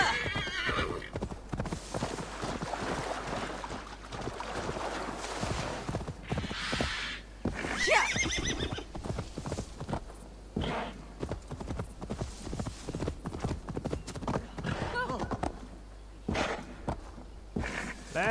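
A horse in the Assassin's Creed Valhalla video game, steady clip-clop of hooves at a trot with a loud whinny partway through, close and continuous over a low ambient game backdrop.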